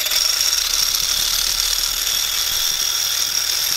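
Flywheel spinning fast on a vibration test rig, its mass being varied: a loud, continuous whirring rattle with bright high-pitched hiss, steady and close with no pauses or voices.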